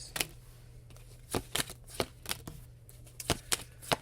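Tarot cards are handled for a reading: a run of crisp, separate card snaps and slides against a table, close and clear over a low steady hum, with no talking.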